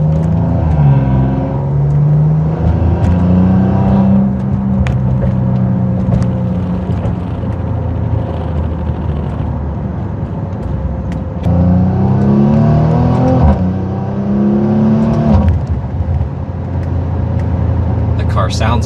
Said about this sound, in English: Okay, we're going on a quick test drive. I do have the vehicle in sport mode.